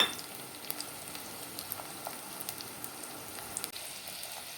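Garlic sautéing in a pan for a Tamil tamarind curry, a soft, steady sizzle close by with faint crackles and pops throughout and no voices.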